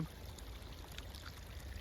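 Irrigation water flows into a farm field with a soft, steady trickling and gurgling, faint and continuous with no voices.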